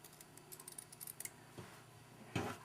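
Scissors snip through fleece and felt while a small sheep decoration is cut out, giving soft, faint clipping sounds. The cuts come in a quick run, followed by a couple of isolated louder snips in a quiet room.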